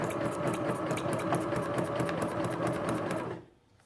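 A sewing machine stitches through paper in a fast, steady mechanical run, close and clear, then stops abruptly near the end, leaving quiet.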